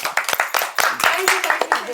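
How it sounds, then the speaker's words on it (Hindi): Clapping hands break out over voices in a casual indoor family setting, a brisk run of sharp, close claps continuing throughout. "उसके लिए एक बार तालियां बजाई जाए"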